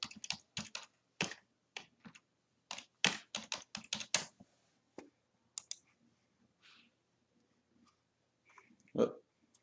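Typing on a computer keyboard, rapid bursts of close, crisp key clicks in an uneven rhythm with short pauses, then a few scattered taps.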